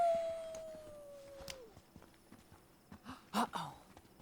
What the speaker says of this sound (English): Uh-oh. I hear a wolf.